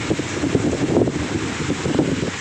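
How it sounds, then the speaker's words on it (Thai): Strong wind buffets the microphone in a steady, rumbling roar by the sea at a seaside temple on Koh Phayam, Ranong, Thailand, with gusts rising and falling and no one speaking. "ช่วงนี้ลมแรงมากนะครับ คลื่นลมแรงมากนะครับ"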